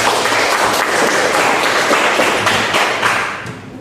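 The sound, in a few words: classroom applause after a student's answer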